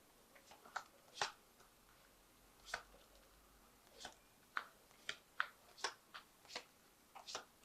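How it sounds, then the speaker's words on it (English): A Witch's Tarot card deck being handled and shuffled, with soft, irregular crisp flicks and riffles of cards, quiet and close, scattered in short bursts with gaps between. "I have shuffled this deck"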